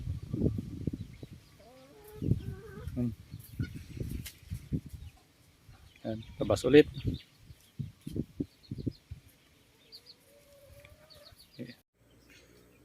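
Chickens cluck and squawk in bursts, with loud scuffling and flapping nearby and a person briefly speaking.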